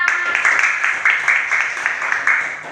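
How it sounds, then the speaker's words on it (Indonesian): A classroom of pupils claps for their classmates in a steady, close burst of applause with rhythmic pulses of hand claps throughout. "Kita beri tepuk tangan untuk teman-teman kita."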